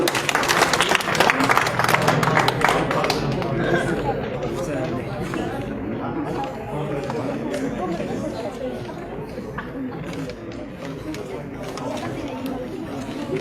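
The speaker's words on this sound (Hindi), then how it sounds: "सभी तालियां बजाकर स्वागत करेंगे" Audience clapping rises briefly at a village public gathering where a guest is being honoured, then gives way to a steady murmur of crowd chatter and voices.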